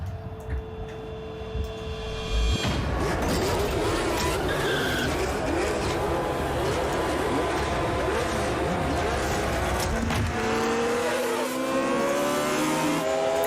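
A Formula One race car engine from the F1 Racing video game roars loudly and continuously, its pitch sweeping up and down through gear changes, with tyre skids mixed into the racing noise.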